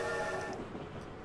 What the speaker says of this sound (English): The blaring of the train's whistle jolts you awake